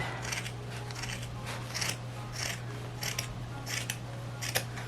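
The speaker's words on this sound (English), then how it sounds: "And then you're going to stick your scissors in to the open part that's left. And you're just going to cut." Scissors snipping through fabric while cutting a drawstring bag, a steady series of crisp close cuts, about a dozen in five seconds, over a low constant hum with no talking.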